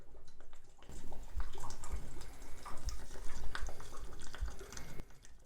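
Water draining from a home radiator as it pulls suction, a close gurgling, bubbling flow with irregular drips and glugs lasting several seconds.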